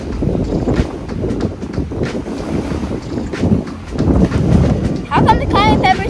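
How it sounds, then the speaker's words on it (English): Strong wind buffeting a microphone on a beach during seaside outdoor cooking, gusting roar and rumble throughout while people talk over it. "The wind is blowing it."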